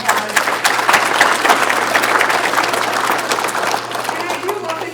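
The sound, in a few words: audience applause for speaker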